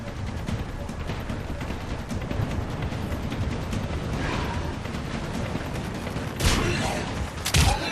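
Gunfire in Mass Effect 3 during an enemy firefight, a dense continuous clatter of shots under a busy combat background, with two louder blasts toward the end; voices talk over it.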